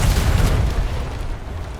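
A ship's cannon fires in a roleplay video game: one loud, deep boom that rolls out into a long, fading rumble with no talk over it.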